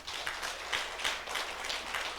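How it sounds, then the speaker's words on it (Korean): A church congregation applauding its elders during a Sunday sermon, a steady wash of many hands clapping at moderate distance, continuous and even without breaks. "우리 장로님들한테 박수 좀 한번 해보세요"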